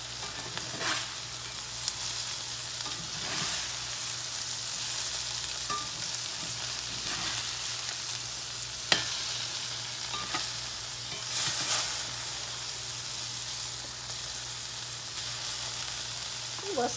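Food fries in a pan with a steady, close sizzle and crackle, broken by occasional stirring or turning scrapes, continuous throughout with no talk.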